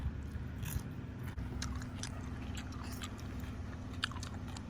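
Close, wet chewing and biting on giant octopus, a quiet continuous run of soft squishy crunches with no talking.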